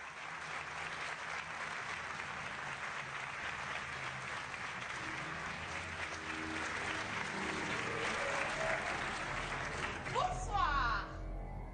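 Studio audience on a daytime television show claps loudly and continuously, a dense wash of applause that swells slightly toward the end before a brief swooping sound cuts in.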